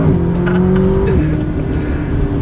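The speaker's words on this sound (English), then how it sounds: "570S acceleration" A McLaren 570S accelerating hard from the cabin, a loud continuous engine roar that climbs in pitch, then drops briefly at a gear change before pulling on again, with no talking over it.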